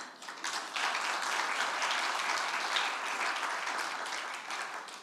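An audience at a university's 20th anniversary ceremony applauds steadily, the dense clapping heard from the middle of a large crowd and holding at an even level throughout.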